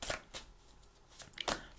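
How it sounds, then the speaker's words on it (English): Quick riffling bursts of tarot cards being shuffled, three or four short rapid flurries with brief pauses between, close and fairly quiet. "I think I'm going to shuffle for your cards."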